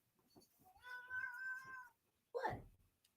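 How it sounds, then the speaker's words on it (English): A Russian Blue shorthair cat meows softly indoors. It gives a drawn-out, wavering meow, then a shorter, sharper one after a brief pause, with faint low murmurs around it. "Mac is a Russian blue, short hair."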